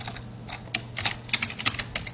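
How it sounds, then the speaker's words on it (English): Keystrokes on a computer keyboard entering a student's details into class software, a quick irregular run of close, crisp taps with short pauses between bursts. "let's type in his information"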